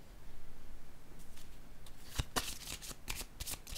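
Tarot cards are shuffled and handled close by in a quiet room, with soft rhythmic riffling followed by a series of sharper slaps and flicks as cards are laid down.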